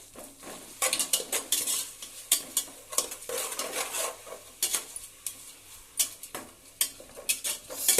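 A metal spoon scrapes and clinks repeatedly against a pot while ginger paste is stirred into biryani, with a faint sizzle beneath the irregular, close stirring strokes.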